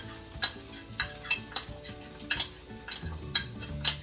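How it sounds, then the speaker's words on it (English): A utensil scrapes unsalted butter around a hot pan for creamy shrimp pasta, giving a series of short, sharp scrapes over a soft sizzle, close and unaccompanied by voices. "I'm just going to try and scrape out every little morsel of this butter that I can get"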